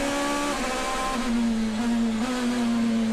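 Onboard a DTM race car at Brands Hatch in 2019, the engine drones loudly and steadily, its pitch stepping down as the driver downshifts approaching a left-hand corner.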